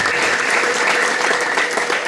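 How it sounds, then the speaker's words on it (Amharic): A church congregation claps together in sustained, dense applause that stays loud and even for the whole stretch, with no voices rising above it. "አጨብጭቡላቸው።"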